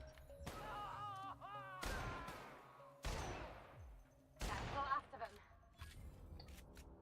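Gunfire in The Outer Worlds video game, with several sharp, loud shot bursts spread across the stretch amid game sounds and music, some echoing tails between them.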